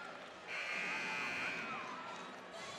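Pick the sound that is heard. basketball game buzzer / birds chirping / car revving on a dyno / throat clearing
basketball game buzzer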